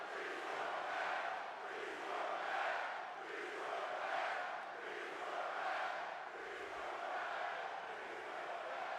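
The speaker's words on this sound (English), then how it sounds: "Crowd shouting restart the match" A large wrestling arena crowd shouts and chants in a loud, continuous roar that swells and dips rhythmically, filling the space with sustained massed voices.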